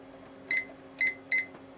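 A darkroom timer gives three short, sharp electronic beeps about half a second apart, clear over a quiet background hum with no talking.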